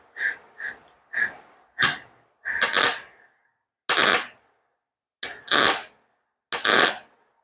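A welding arc burning through paint and melting a metal washer gives eight or so sharp, loud crackling bursts, close by, each separated by short silences and with no voices.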